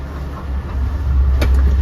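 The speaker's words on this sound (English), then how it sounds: "there's an Oyster Bay to Jamaica train" A Long Island Rail Road commuter train rumbles past close by at a station, a heavy low roar that builds steadily, with a brief metallic squeal near the end.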